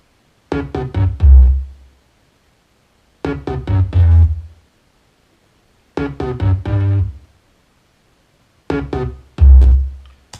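A three-layered synth hook over an 808 beat plays in four repeating phrases, each a cluster of bright stacked chords ending on a booming low 808 hit, separated by short silences, with no talk.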